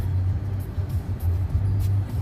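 Car engine idling low and steady while parking in Baku, a throbbing rumble that pulses gently with slight rises and dips, fairly loud and close, with no voices over it.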